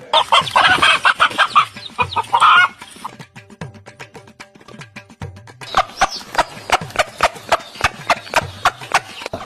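A hen clucks and squawks close by in a rapid, uneven series of sharp calls, with a burst of louder agitated cries at the start and a steady run of clucks after, no talking.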